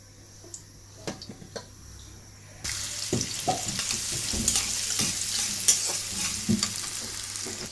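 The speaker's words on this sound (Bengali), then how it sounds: "ওদিক দিয়ে ভাবি তেল ঢাইলা দিতেছে আমাকে" Oil goes into a pan for a shing fish curry and bursts into a loud, steady sizzle partway through, preceded by a few clinks and knocks of utensils, with occasional stirring taps over the frying.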